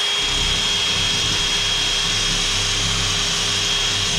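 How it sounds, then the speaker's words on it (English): Abrasive brush on a power tool scrubbing rust off a vice, a loud steady whirring grind with a constant high tone and no pauses. "So I've used that abrasive brush."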